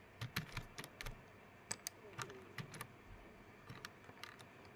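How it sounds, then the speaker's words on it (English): Clicky keystrokes on a computer keyboard while coding a ReactJS project, arriving in irregular bursts of close taps separated by short pauses, with no voice present. "so what we are typing here"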